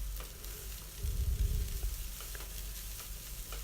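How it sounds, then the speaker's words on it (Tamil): Capsicum rice is stirred in a hot pan, a soft sizzle that swells briefly as the spoon moves through it, then settles back to a faint, steady crackle. "ரைஸை சேர்த்துட்டு நல்லா கிளறி விடுங்க."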